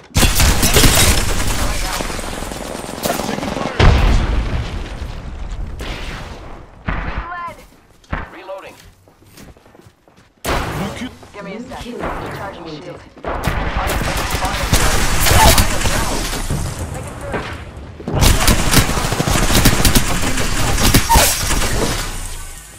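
Bursts of gunfire in the Apex Legends battle royale game crackle and shatter across a firefight, broken by a quieter lull midway, with a player's voice talking over the loud shooting.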